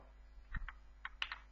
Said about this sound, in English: here I'm just typing some text like